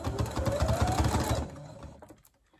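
A sewing machine runs in a fast, steady stitching rhythm while sewing on Velcro, then stops about halfway through, leaving a few faint clicks and handling noises.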